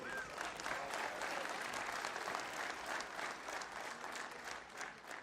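A large crowd at an outdoor political rally in Serbia in 2013 applauds steadily and loudly, a dense, continuous wash of clapping that stays even throughout with no break.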